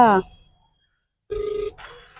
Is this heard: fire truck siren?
no